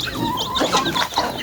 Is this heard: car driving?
no